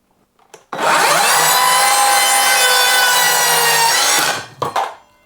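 An Evolution R165CCS-Li 18V cordless circular saw rips through wood in one loud sustained cut of about three and a half seconds, whining and rasping close up, then spins down with a couple of short clunks and no talking.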